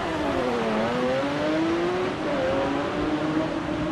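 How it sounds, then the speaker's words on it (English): A former circuit racing car, now converted to a rally car, pulls away hard at a rally stage, its engine loud and close, revving through rising, stepping pitches as it accelerates. "this is, or was, sorry, a former circuit racing car. And that's why it will sound so glorious as it takes off"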